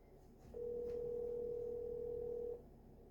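Telephone dial tone while a call is placed, a steady single-pitch tone lasting about two seconds over faint room noise, with no talking.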